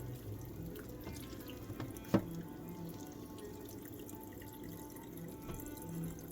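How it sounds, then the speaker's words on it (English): Water drains from a sink in a steady, soft rushing trickle, with one brief sharp knock about a third of the way through; no one speaks. "Okay, it's draining now."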